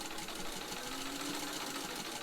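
A powerful potted-motor home sewing machine, model 1591, stitching through heavy material with a steady, continuous mechanical whir and rapid needle clatter, even and unbroken throughout.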